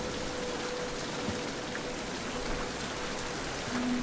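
Steady rain hisses evenly throughout, a dense soft patter of drops with no voices; rain falling on a village in a video game.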